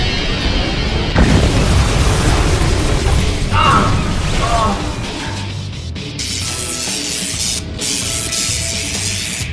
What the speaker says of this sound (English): Deploy a heat-seeking missile.